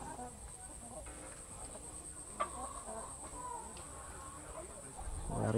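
Assel Shamo chickens on a free-range farm give soft, scattered clucks far off under steady background hum, with someone speaking nearby.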